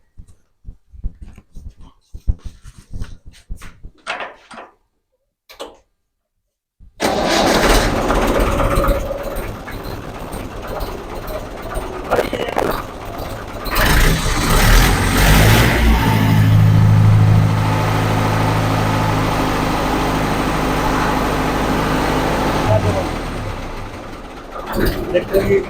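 A Mahindra B 275 tractor engine is cranked and starts, then idles loudly and steadily at close range, with a brief rise in revs partway through; people talk before it starts.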